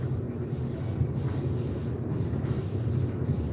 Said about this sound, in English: Norfolk Southern freight train.